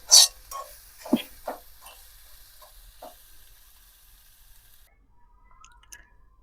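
Karchikai vegetable fry being stirred in a pan, a North Karnataka style dish: a few scraping stirs and a soft sizzle fading out to near silence, then faint clinks at the end.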